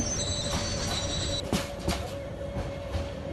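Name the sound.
train running in video game Train Sim Bangladesh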